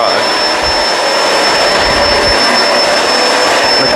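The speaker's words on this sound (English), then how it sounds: "One pass, this Kenmore lifts the pile and erases the dirt off of this low pile rug." A Kenmore Crossover Ultra vacuum cleaner working a low pile rug gives off a loud, steady motor roar and whine with a constant high tone, running without a break and close to the microphone.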